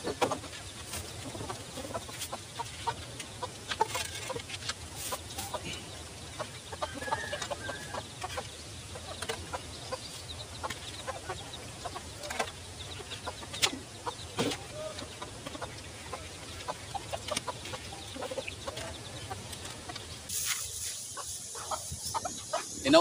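Chickens and chicks cluck steadily at a rural backyard feeding, with scattered peeps and calls over a low outdoor hum, and a brief louder burst near the end.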